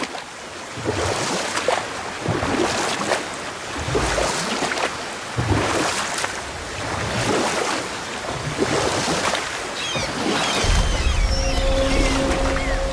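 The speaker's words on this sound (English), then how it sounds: "Keep rowing towards the statues of the oarsmen, then thread past between them" A rowboat is pulled through water in the God of War video game, with rhythmic oar strokes and splashes repeating about every two seconds over lapping waves, and a steady hum at the end.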